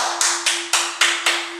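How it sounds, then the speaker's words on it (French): Short applause at the end of a Pilates session with a Swiss ball, about six sharp, evenly spaced claps over a steady low hum, with no talking. "On peut s'applaudir."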